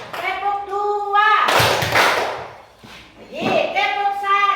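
A classroom of children claps in unison in a counted chant, with one longer burst of clapping and a shorter burst later, both framed by chanting voices.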